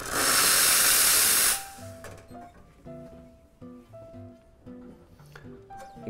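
An espresso machine steam wand is purged in a loud, close burst of hissing steam lasting about a second and a half, then cut off, followed by faint clinks and hum.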